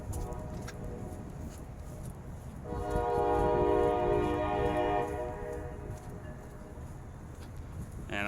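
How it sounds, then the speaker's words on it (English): Trains pass near residential buildings on a windy city walk, a loud, sustained horn-like tone rising over rumbling wind noise for a few seconds before fading back to wind. "I'm sure the people who live here and the residences love the noise of the trains"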